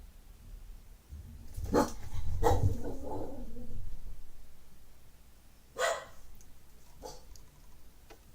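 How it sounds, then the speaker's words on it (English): Dogs barking at a squirrel on a deck, a couple of bursts of sharp barks near the start and one more a few seconds later, fairly close with quiet gaps between. "those dogs have been going mad over squirrels lately"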